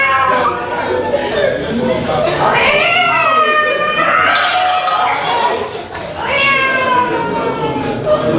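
A cat meows and caterwauls in drawn-out, wavering cries, several long yowls in a row, loud and close, with a faint clink of dishes in the background.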